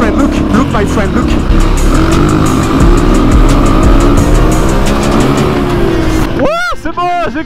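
A motocross bike roars close by at full throttle, its engine droning loud and steady before revving sharply in rising bursts at the end, with a voice talking over it.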